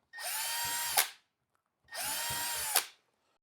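A power drill mounts casters onto a wooden workbench in two separate bursts, each a steady whir that ends with a sharp rise as the screw seats, with a short pause between them.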